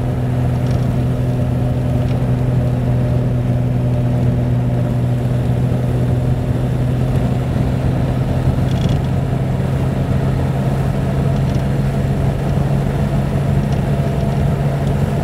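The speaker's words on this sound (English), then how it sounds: "this is really quite lively for a 30s car, and smooth because of the six-cylinder engine" A 1936 Riley Kestrel 15/6 with a six-cylinder engine cruises along, its smooth, steady low drone holding an even hum heard from inside the car, with no voices over it.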